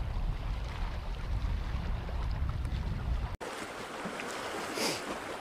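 Strong wind buffets the microphone in an open fishing boat on New Melones in bad weather, a steady loud roar with a brief cut partway through and water sloshing beneath, no talking.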